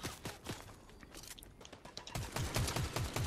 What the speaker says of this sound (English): Oh, the other guy's shooting at me.